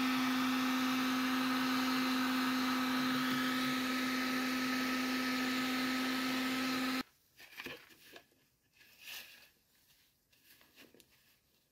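A small ventilation fan being fitted during a cabin renovation hums steadily with a strong tonal whine and airy hiss for about seven seconds, then cuts off abruptly, leaving faint knocks and handling noises.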